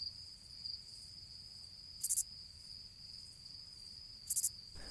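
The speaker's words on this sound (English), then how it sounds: "a symphony of crickets and cicadas outside my window is so loud that it is hard to pay attention to anything else" Crickets and cicadas chirp outside a window at night, a steady high-pitched insect drone with a few brief bursts of shrill buzzing, all faint and distant with no voices.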